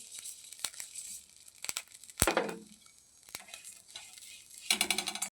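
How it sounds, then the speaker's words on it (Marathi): Slightly moist sprouted sesame seeds being roasted in a kadai over a low flame, heard as sporadic dry scraping and rustling bursts over a faint sizzle, close by. "मोड आलेले तीळ भाजून घेऊ"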